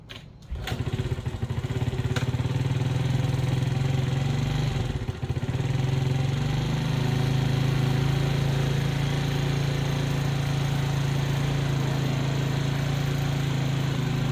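A GY6 50cc scooter engine starts after a valve adjustment, catching almost immediately and then settling into a steady, loud, buzzing idle that runs unbroken at close range, with no talking.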